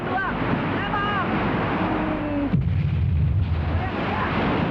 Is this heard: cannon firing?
yes